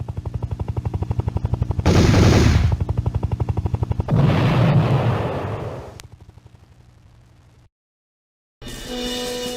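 Rapid machine-gun fire from an arcade shoot 'em up with a large cabinet and moving gunner seat, loud and relentless bursts with short gaps, ending in a brief silence before more firing.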